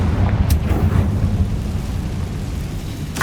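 A Confringo spell explosion in Hogwarts Legacy: a deep, loud rumbling blast that roars continuously with a heavy low-end and crackling debris, one sharp burst near the start and another near the end.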